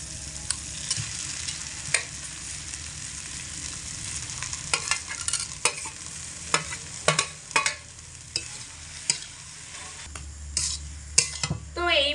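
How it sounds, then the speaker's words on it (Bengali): Grated potato and paneer are stirred nonstop with a spatula through sizzling masala over a low flame. Close, irregular scraping strokes and clacks ride over a steady frying hiss, with no talking. "এইভাবে হালকা আঁচে রেখে অনবরত খুন্তি দিয়ে নাড়াচাড়া করে এটাকে আমি খুব সুন্দর করে মশলার মধ্যে মিশিয়ে নিয়েছি"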